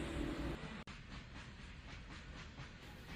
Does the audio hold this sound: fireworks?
no